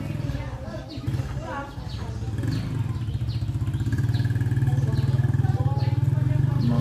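A motorcycle engine runs steadily in a rural Pangasinan setting, a low droning hum building gradually and holding, with chatter and other background sounds around it.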